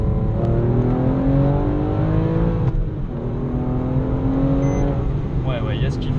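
A Porsche 911 997 Carrera 3.6 accelerates hard in second gear, its engine tone rising steadily, loud and close, with a brief dip before it climbs again.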